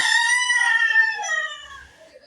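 A rooster crows once nearby, a single loud, drawn-out call that tapers off in its final second, with no other sound around it.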